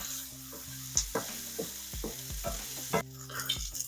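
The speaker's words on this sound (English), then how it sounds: "add a little bit of salt to our onions. There we go. And what this is going to do is it's going to make our onions sweat. All right. Quick stir." Onions with salt sweat in a pan on the stove, a soft sizzle under repeated scraping stirs of a utensil, with a brief louder hiss near the end.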